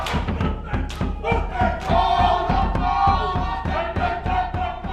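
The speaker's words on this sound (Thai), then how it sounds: "การเต้นจะใช้มือตีตามร่างกายและกระชืบเท้าเป็นจังหวะ" Rhythmic body slapping and foot stamping thuds from a group of haka dancers in New Zealand, with loud shouted chanting over the beat, close and forceful.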